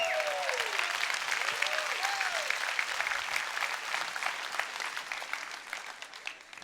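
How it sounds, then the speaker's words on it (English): An audience applauding steadily, dense clapping that holds at an even level throughout, with a faint whistle-like tone near the start. "Clap for that."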